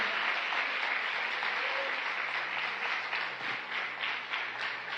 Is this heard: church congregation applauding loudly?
yes